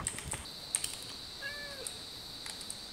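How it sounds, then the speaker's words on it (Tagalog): A cat in the Minecraft video game gives one short, faint meow partway through, under quiet clicking and a steady high electronic tone. "May pusa."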